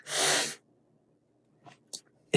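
One loud, close sneeze bursts out at the start, followed by quiet, with a few faint breaths and small sounds afterward.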